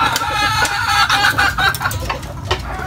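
Rhode Island chickens clucking close by in a busy, overlapping stream of short clucks and calls.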